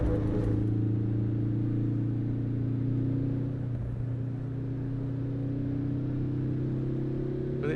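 Throaty race car engine in the racing game Assetto Corsa Evo, a steady loud drone with strong low harmonics holding a near-constant pitch, briefly shifting mid-way before settling back into a sustained roar.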